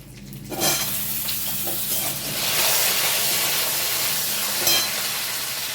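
Potato pieces hit hot mustard oil with whole tempering spices in a kadai for vegetable khichdi, bursting into a loud, close, steady sizzle that hisses on with slight swells.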